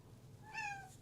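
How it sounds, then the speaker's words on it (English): A cat gives a single short, clear meow, close by, in a quiet room. "you may have just heard meowing"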